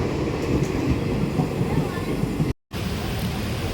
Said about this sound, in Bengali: ট্রেন ছেড়ে চললো